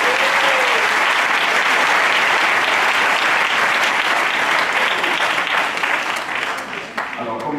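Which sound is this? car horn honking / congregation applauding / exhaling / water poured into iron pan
congregation applauding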